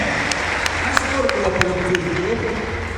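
Church congregation applauds during a sermon, a continuous wash of many hands clapping at a steady loud level, with a few sharper claps standing out and voices mixed in beneath.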